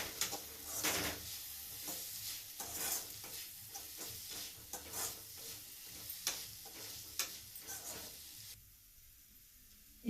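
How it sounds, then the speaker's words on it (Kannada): Green chili paste frying in a pan, with quiet sizzling broken by repeated scraping strokes of a spatula in an uneven rhythm. The sound drops to near silence at the very end. "ಒಂದು 2 ನಿಮಿಷ ಹಸಿ ಸ್ಮೆಲ್ ಹೋಗೋ ತನಕ ಫ್ರೈ ಮಾಡ್ಕೊಬೇಕು"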